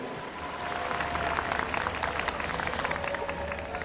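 Dense applause from a crowd at a youth political talk concert in Korea fills the space, steady and fairly loud throughout, with a faint tonal hum running underneath.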